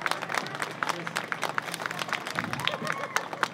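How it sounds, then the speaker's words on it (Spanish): Dense crowd applause for a performer at an Argentine folk music show in Alcorcón, with rapid, overlapping claps, steady and fairly loud throughout, with cheers and voices mixed in. "Fuerte el aplauso para Adrián"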